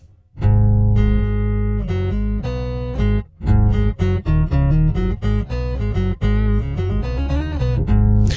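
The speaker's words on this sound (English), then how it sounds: "So now we hear both the octave below and above." Electric bass run through a pitch shifter pedal set to dual mode, adding octaves below and above the played notes; a loud, sustained, buzzing multi-voiced bass line plays steadily with brief pauses between phrases.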